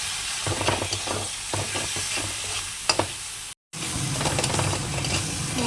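Spice masala with turmeric, salt and a little sour seasoning sautéed in a pan, a loud steady sizzle broken by scraping stirs and a couple of sharp clinks, cut by a brief gap of silence.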